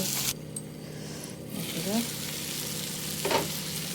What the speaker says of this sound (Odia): ଟମାଟୋ, ପିଆଜ, ଆଳୁ ଭାଜି ହେଇଗଲା।